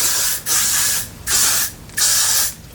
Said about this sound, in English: spritz the hair like so. And spray the hair.